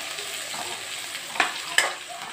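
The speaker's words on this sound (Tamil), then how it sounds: "வெங்காயம் நல்லா வதக்கி எடுக்கலாம்" Chopped onions and green chillies sizzle steadily in hot oil, close and hissing, with two sharp scrapes of a spoon stirring the pan and nobody talking.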